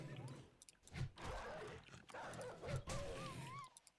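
In the zombie survival video game 7 Days to Die, a dog growls and snarls in low, rough bursts over dense ambient game sound, fairly close.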